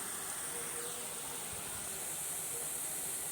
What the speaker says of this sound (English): Now I am going to fry those cumin seeds in this oil and add this onion.